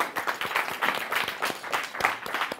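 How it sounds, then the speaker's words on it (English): An audience claps at an inspirational youth talk show, the claps coming as distinct, fairly close bursts in an uneven rhythm, moderately loud with no talk over them. "Let's give her a round of applause."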